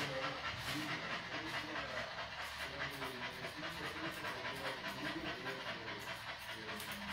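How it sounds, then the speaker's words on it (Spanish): A mixed-breed dog pants steadily during a grooming session, a fast continuous breathy rhythm close by under broadband noise, with faint voices in the background. "Por supuesto, cuando el perro está nervioso, jadea más."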